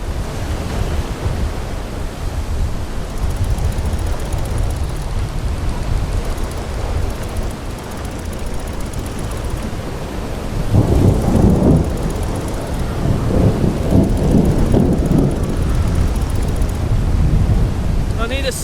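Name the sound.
strong wind and storm at sea while sailing, video game Will: Follow the Light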